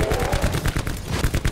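Rapid gunfire from a gun in Black Ops 4 IX zombies mode, a fast string of sharp, loud shots repeating evenly throughout with no talking.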